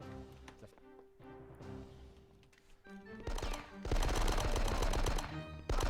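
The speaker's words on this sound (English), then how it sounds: "And now we can drop the weapon. Well, and pull out a machine gun." Machine gun fire in the Die Hard: Nakatomi Plaza video game, heavy and rapid with dense bursts building in the second half over steady game sounds.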